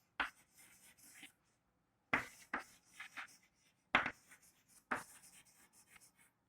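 Chalk or marker scratches across a classroom board in four short bursts of quick strokes, each a cluster of crisp scraping taps separated by silent gaps.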